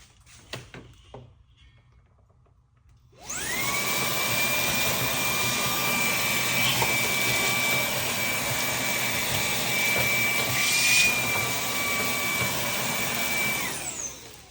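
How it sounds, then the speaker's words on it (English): A vacuum cleaner switches on after a few seconds of quiet and runs steadily with a loud, high whine that holds to the end, cleaning out an Infiniti Q50 car. "I'm just gonna vacuum out."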